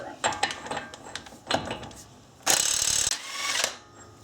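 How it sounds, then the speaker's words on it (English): A 36 mm car axle nut worked loose with a wrench or breaker bar gives repeated metallic ratchet clicks and clanks in short bursts, close by, ending in a louder grinding scrape. "I'll start by removing the axle nut."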